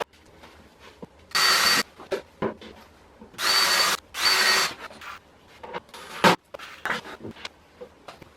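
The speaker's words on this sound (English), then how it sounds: "I still made pilot holes just to make it easier putting them in." A power drill bores pilot holes into a wooden workbench board in short bursts, with four or five loud whirring runs separated by quiet gaps, handling knocks and light scraping between them.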